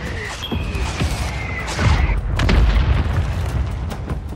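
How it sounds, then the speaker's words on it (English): Mortar strike explosions in Call of Duty Warzone: a run of heavy booms with deep rumbling, building to a louder blast near the middle, with a faint in-game voice and tones early on. "Mortar strike inbound."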